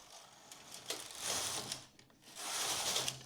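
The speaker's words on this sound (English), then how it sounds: "We'll again knit 2 rows." A double bed knitting machine's carriage running across the needle beds for two rows, giving a steady mechanical clatter and rattle in two passes with a short pause between, close and moderately quiet.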